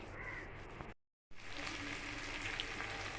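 Ginger-garlic paste and spices being sautéed in a pan for a red egg curry give a steady, close sizzle and frying crackle, broken by a brief silent gap before it resumes.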